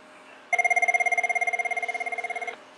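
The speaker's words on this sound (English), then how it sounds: "Okay, so the phones are ringing." A telephone on a trixbox phone system rings in one loud, continuous electronic trill lasting about two seconds, rapidly pulsing and clear against a quiet background.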